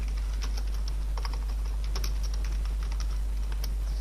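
Quick clicking keystrokes on a computer keyboard, an irregular run of light taps over a steady low electrical hum, close and without speech.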